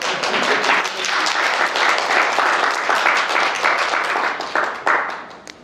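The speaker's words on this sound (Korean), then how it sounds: "박수가 나올 법도 한데" A church congregation claps steadily in sustained applause during a sermon for several seconds, fading slightly toward the end.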